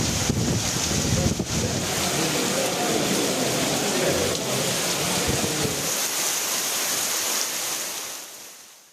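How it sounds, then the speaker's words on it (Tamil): Heavy overnight rain pours down steadily in a town in Tamil Nadu, a dense broadband wash with gusty roaring bursts, fading out toward the end. "இரவு முதலே கனமழை பெய்து வருகிறது"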